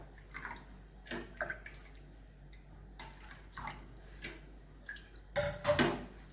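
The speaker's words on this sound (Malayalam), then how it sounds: "2-3 കപ്പ് വെള്ളം ഇതിൽ ചേർക്കാം പുളിയുടെ കൂടെ." About two to three cups of water are poured into a cooking pot with tamarind, heard as several brief close splashes and trickles in separate bursts, the last one louder, over a quiet kitchen background with no talk.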